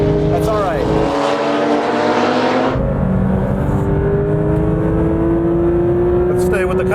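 Porsche GT3 RS on Cup 2 tires lapping a race track among Cup cars, its engine note loud and steady with rising revs and a sustained high-pitched drone throughout.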